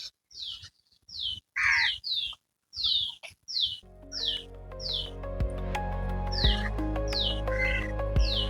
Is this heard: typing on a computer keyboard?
no